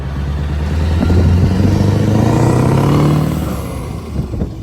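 A Scania semi-truck with upgraded turbo and injectors revs loudly nearby, its deep engine note climbing then easing off, with clattery mechanical texture and no voices over it.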